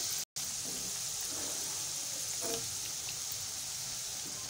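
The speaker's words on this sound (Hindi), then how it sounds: "मीडियम टू लो फ्लेम पे हम इसे फ्राई कर रहे हैं।" Potato pieces frying in oil over a medium-low flame, a steady, soft crackling sizzle that runs continuously with a few faint pops, briefly cut to silence near the start.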